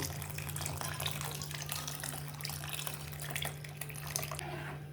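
Melted jaggery syrup is poured through a strainer, giving a faint, steady liquid trickle over a low constant hum, with no talking.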